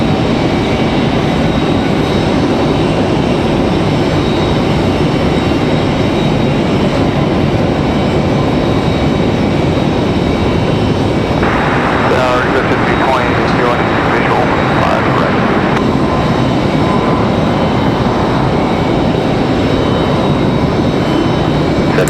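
An airliner landing at Raleigh-Durham International Airport gives a loud, steady engine roar that swells in the middle. People talk over it throughout.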